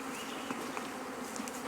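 Honey bee swarm buzzing steadily around a hive box outdoors, a dense continuous drone close by with a faint bump near the end.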